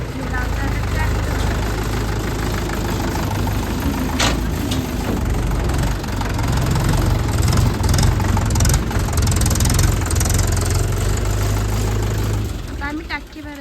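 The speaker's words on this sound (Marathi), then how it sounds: "लावतात ट्रॅक्टर." A tractor engine idles steadily on a farm where a water tank is being fitted, its low, rough throb running unbroken throughout with clattering and knocks over it, while people talk nearby.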